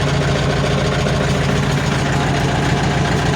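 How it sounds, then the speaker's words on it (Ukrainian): A Scout 404C tractor engine drones steadily and loudly while pulling a cultivator with a compactor, a constant low rumble with no pauses and no voices. "Трактор справляється чудово з цим культиватором"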